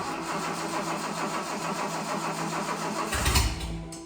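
A cheap supercar with its exhaust removed cranks steadily in a fast rhythmic churn for about three seconds, then fires with a loud, raw, deep burst and fades away, close and alone without talk.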